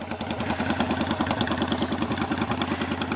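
The engine of an old 2003 model motorcycle runs steadily with a rapid, even pulsing throb, loud and close, out on a country ride, alone with no voices.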